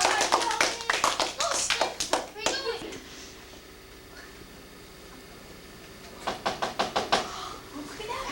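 A classroom of fifth-grade children claps for a visitor, a burst of loud, quick, uneven applause that fades to quiet, then a second shorter round of clapping near the end, with faint child chatter.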